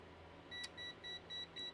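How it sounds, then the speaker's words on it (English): A multimeter in continuity mode gives a string of short, faint electronic beeps, four or five in a regular on-off rhythm, during a repair of vintage Atari console controllers. "My multimeter's going to beep at me."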